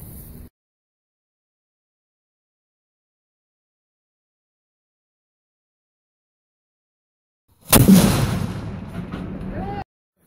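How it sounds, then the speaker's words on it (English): A video-game cannon fires a single sharp, loud boom after a long stretch of silence, then a rumbling tail decays while a voice speaks over it. "That cannon went through every single one of these."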